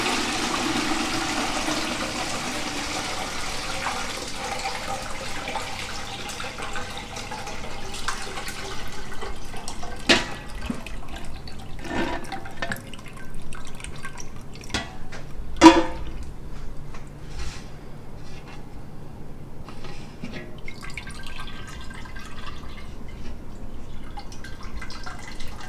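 Peach pie moonshine with peaches and cinnamon sticks strains through a filter into a pot, giving a steady low trickle with scattered drips and a few sharper splashes.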